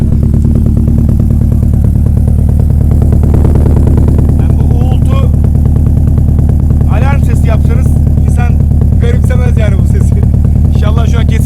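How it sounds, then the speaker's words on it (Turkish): A Subaru rally car engine idles at a track event in İzmir, with a deep, rapid, throbbing exhaust rumble, steady throughout, while voices talk over it in the latter half. "Özel bir egzoz sesi dinletmek istiyorum müsaadenizle."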